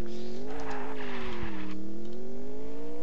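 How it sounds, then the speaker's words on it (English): A car drifts and skids in Garry's Mod, a loud steady engine hum with a long tire squeal layered over it, shifting pitch as the car slides. "Oh, he drifted."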